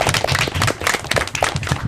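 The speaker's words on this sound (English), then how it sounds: "Let's hear a big round of applause for yourself." Kids and audience clapping after an elementary school academic derby match, a dense, continuous patter of hands at moderate distance with no break.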